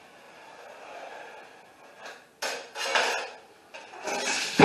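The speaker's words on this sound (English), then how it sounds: "I'll score it with a utility knife." A utility knife scoring drywall for a ceiling corner repair, heard as a few short, close scraping and rasping strokes after a quiet lead-in, ending with a louder burst.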